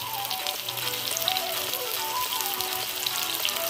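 Vavval fish frying in oil over a low flame, a steady close sizzle with fine crackling that holds evenly throughout, no voices.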